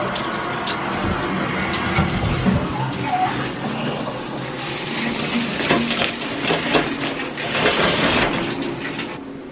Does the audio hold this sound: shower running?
yes